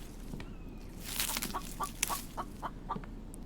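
Chickens cluck in the survival video game The Infected, a run of short, fairly faint clucks repeating at a steady pace with no one talking over them.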